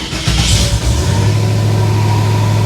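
LS V8 engine in a 1957 Chevy Bel Air cranking and catching, then settling into a loud, close, steady idle with a deep droning hum.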